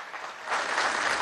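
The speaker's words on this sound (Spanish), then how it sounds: "Vamos a darle un aplauso al general en jefe Padrino López." A crowd at a Venezuelan military anniversary ceremony applauds General Padrino López, clapping that starts moderately and swells into loud, dense, sustained applause.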